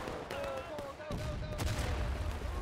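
A Civil War-era cannon in War of Rights fires on the Graveyard map with one heavy boom partway through, followed by a low rumbling tail amid distant battlefield noise and faint voices.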